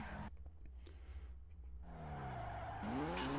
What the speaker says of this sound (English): I love the turbo sounds off this S13, though.